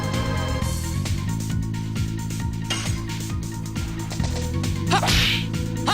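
War God attack effect from the video game Legend of Dragoon: whip-like cracks and metallic swishes over a sustained tonal drone, with a bright rising sweep near the end, loud and unaccompanied by talk.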